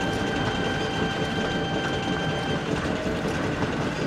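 A heavy goods train rumbles past with a dense, steady clatter of wheels and a faint sustained whistle tone running through it, in an animated railway story.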